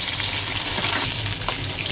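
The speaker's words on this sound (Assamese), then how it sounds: "মাছকেইটো ফ্ৰাই কৰি লওঁ।" Steady, loud sizzling of fish frying in hot oil, a continuous crackling hiss with no voices over it.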